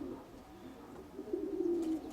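A pigeon gives a soft, low, drawn-out coo up close, rising out of a quiet background after a faint murmur at the start.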